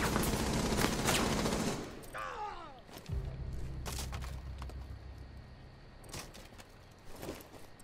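Automatic gunfire in the video game Rainbow Six Siege, a loud burst of rapid shots up front, then scattered single shots and mechanical clatter at lower level.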